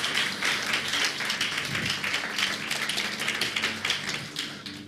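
A church congregation applauding, dense continuous clapping from many hands filling the room for several seconds, fairly loud and close, no talking over it.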